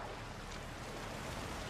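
Steady broadband rushing roar of a waterfall in the Uncharted 3 video game, continuous and dense like crashing water, with no voices.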